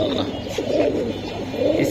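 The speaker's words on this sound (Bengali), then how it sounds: "এটা বাবু কবুতর ভাই" A Babu pigeon, a small-beaked breed at a pigeon market, coos in low, soft murmuring phrases, with a voice talking over it.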